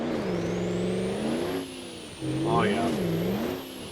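An off-road truck engine in BeamNG.drive revs hard and rises and falls in pitch, a steady mid-range drone with a high whine above it, running under a man's brief spoken remarks.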